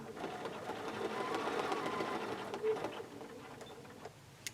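A sewing machine hums steadily as it stitches quilting lines on a quilt block, then slows and stops near the end, fairly quiet and close, with no talking.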